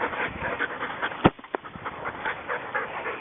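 A wolfdog pants in quick, close breaths, with a sharp knock or bump near the middle and a short whimpering whine after it. No one speaks.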